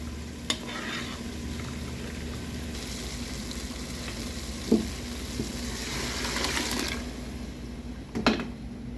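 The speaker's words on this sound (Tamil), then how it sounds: "தக்காளி நல்லா வதங்கிட்டு வேக வச்சுருக்க ரெண்டு மிக்ஸ் மசாலையை சேர்த்துருக்காங்க" Tomatoes and mixed masala sauté in a pan for crab soup, a soft continuous sizzle with a few sharp spoon taps and light stirring, fairly quiet and without speech.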